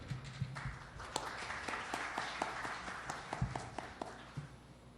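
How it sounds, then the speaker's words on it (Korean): Applause at a care-robot forum in Korea welcoming a presenter, a moderate round of crowd clapping with some sharper individual claps standing out, heard at a modest level. "큰 박수로 환영 부탁드리겠습니다"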